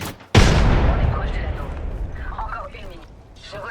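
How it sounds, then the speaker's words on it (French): A frag grenade detonates in Apex Legends: one sudden, loud blast booms out and then rolls away in a long, fading rumble. "Je lance une grenade frag."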